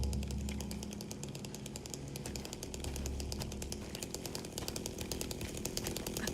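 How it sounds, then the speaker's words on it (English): A video game chainsaw roars steadily for several seconds, with a rapid buzzing chatter throughout and a deeper engine drone that rises and falls, no talk. "The chainsaw!"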